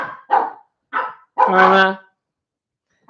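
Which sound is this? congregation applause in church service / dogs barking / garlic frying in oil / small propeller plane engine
dogs barking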